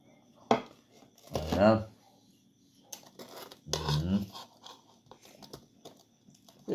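Dishware clatters as a lid or cover is set over a dish of leftover food, a few sharp clinks and scraping rattles spaced out between quieter pauses, close up.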